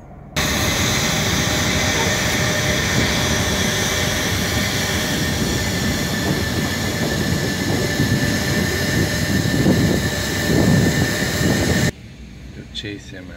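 A loud, steady rumbling roar of a passing CN freight train carrying wind turbine blades, continuous for about twelve seconds before cutting off abruptly.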